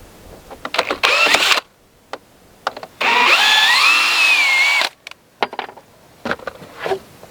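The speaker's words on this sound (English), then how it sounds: "Take that little screw out." A power drill backs a screw out of pre-drilled wooden roof fascia on an off-grid earthbag building, whirring in two bursts, a short one then a longer, rising whine, with clicks and handling knocks between.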